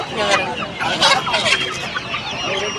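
Chickens cluck and squawk nearby in short bursts, with a rooster-like call mixed in and faint background chatter.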